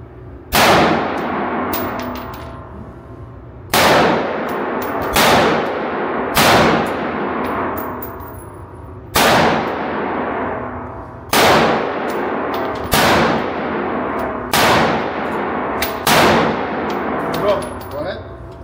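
An HK gun fires at a shooting range in seven sharp, loud, close reports, spaced unevenly a second or two apart, each with a brief ringing decay.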